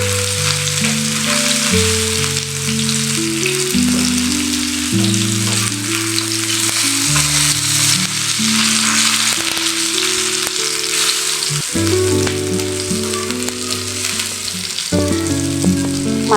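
Bangda (mackerel) fish frying in a pan, a steady loud sizzle throughout with tonal music playing over it, no talk.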